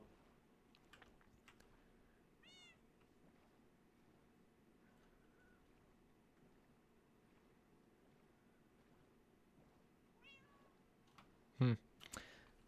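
Two short meows from a cat in the Minecraft video game, one near the start and another around ten seconds in, faint over a low, steady background hum, with a louder thump or splash near the end.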